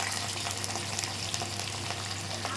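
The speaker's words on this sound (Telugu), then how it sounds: "మరగబెట్టుకున్న తర్వాత ఈ తాలింపు వేసిందాన్ని ఇందులో పోయాలి." Hot tempering of cumin, curry leaves, ginger, crushed garlic and chillies hisses and sizzles as it is poured into boiled tamarind dal. The crackle is steady, close and fairly quiet.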